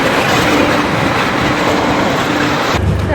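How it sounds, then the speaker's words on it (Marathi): A train at a station rumbles past loud and close, a dense steady roar with rolling clatter that cuts off abruptly near the end. "ट्रेन आली आहे."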